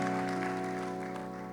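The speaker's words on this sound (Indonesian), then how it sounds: "Mari kita kasih tepuk tangan buat Tuhan Yesus kita." A congregation at a Christmas church service applauds while sustained musical tones ring beneath the steady clapping, which fades slightly toward the end.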